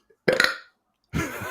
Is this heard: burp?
yes